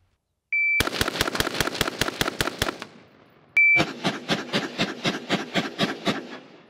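A gun fitted with a vertical grip fires two loud, close strings of rapid, evenly spaced shots with a brief pause between them.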